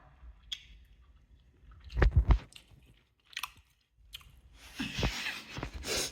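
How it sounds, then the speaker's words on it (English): Someone chews food close to the mic, with wet squishy bites and a few crunchy bursts separated by quiet pauses. "Me chewing."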